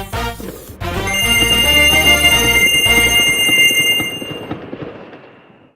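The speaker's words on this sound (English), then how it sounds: "we'll activate the fireworks." Fireworks effect from an Unreal Engine 5 game demo with adaptive music in a Mario Wonder style: a burst launches, then bright sustained tones and crackling pops ring out over a dense musical bed, loud and steady before fading.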